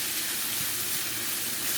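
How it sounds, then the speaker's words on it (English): Jamaican-style ackee and saltfish stir-fries in a hot pan with a loud, continuous, even sizzle and hiss, close up and with no one talking. "now this is stir frying"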